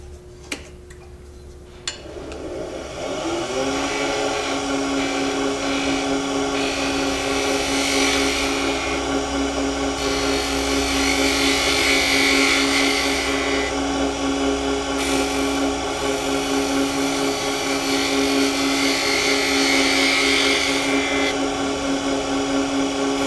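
A Henry Taylor skew chisel cuts half a bead on spindle wood spinning on a lathe, giving a steady close rasping hiss over the motor's constant hum, beginning after a brief knock and running without pause.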